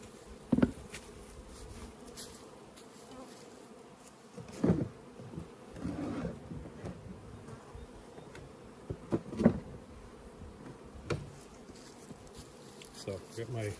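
Honey bees buzz around an opened hive during spring hive work, a faint, steady hum close by, broken by a few louder knocks and handling sounds.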